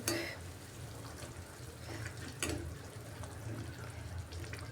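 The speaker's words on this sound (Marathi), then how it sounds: "याच्यात गरमच पाणी घालायचे आहे" Hot water is poured into a traditional Maharashtrian Bhogi mixed-vegetable curry in a pan, giving a soft, continuous splashing trickle with a few clinks of utensils.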